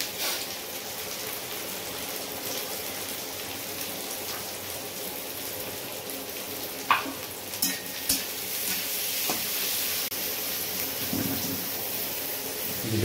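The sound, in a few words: onion frying in pan with whole garam masala for Bengali fried rice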